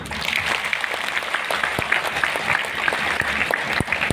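A crowd applauds steadily throughout, many hands clapping at a lively, even pace with a few sharper claps standing out.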